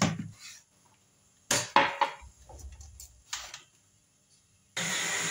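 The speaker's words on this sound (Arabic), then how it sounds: "هشغل بس ايه معايا الخلاط الناحيه التانيه كده" A few clattering knocks and thumps, then a blender motor kicks on with a loud, steady whir at the end, in a kitchen with hot milk to be added.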